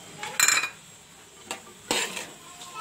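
A spoon stirs beans through a mixed vegetable curry in a pan, giving a few faint metallic clinks and scrapes against the pan with quiet pauses between them.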